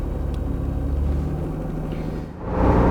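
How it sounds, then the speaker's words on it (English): An NA1 Acura NSX fitted with a Tubi exhaust rumbles at a low idle, then the engine note swells as the car pulls away, loud and close. "I do have a Tubi exhaust, which is a very popular exhaust with German cars and Italian cars, and it sounds pretty good"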